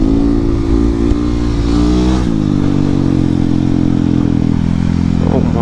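Husqvarna 701, a 700cc single-cylinder supermoto motorcycle, ridden on icy, snowy roads, its engine droning loudly and continuously close up with a steady tone that shifts pitch as the throttle changes, wind rushing over it.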